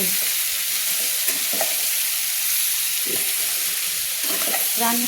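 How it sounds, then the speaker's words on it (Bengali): Pumpkin cooks in a pan with a little water, giving a constant, fairly loud hiss and bubbling sizzle. Occasional stirring clinks and scrapes sound over it. "অল্প জল দিয়ে কিন্তু আমি মিষ্টি কুমড়োর সবটা রান্না করে নেব।"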